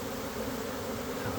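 A swarm of honeybees hums at the hive, a steady, dense buzz that holds at an even level without a break and sounds close.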